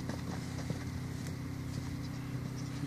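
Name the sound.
horse cantering, hooves clip-clopping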